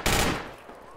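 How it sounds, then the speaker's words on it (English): Gunfire in the military shooter game Project Reality: one loud, close, sharp shot or short burst that cracks at the start and fades within about a second. "We're getting shot."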